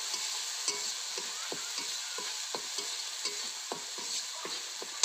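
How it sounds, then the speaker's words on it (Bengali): Mustard spice paste being stirred in a pan for bhola fish: a steady frying sizzle broken by regular scraping strokes of a spatula, roughly two per second, close and evenly paced. "এবার এটা আর একটু ভালো করে নাড়িয়ে নেব মশলাটা।"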